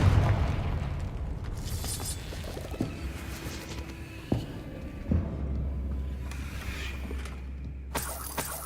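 Confringo fire spells burst in Hogwarts Legacy, producing a few distinct booming impacts spread across a busy game soundscape, each followed by crackling and a low, lingering rumble.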